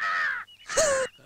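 A crow caws twice, two loud harsh calls close by separated by a short pause, with a faint third note starting at the end and no talking.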